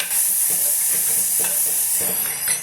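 Turmeric powder being mixed into a shallot curry in a hot pan: continuous bright sizzling and hiss with soft scraping strokes of a spoon at a regular rhythm, close and loud, no voices.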